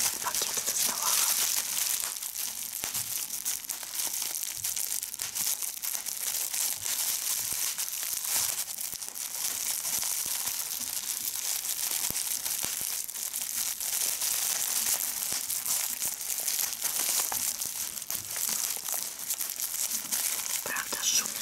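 Plastic bags crinkle and rustle steadily throughout in a close ASMR recording, with dense crackling texture and soft whispery hiss, no clear spoken words.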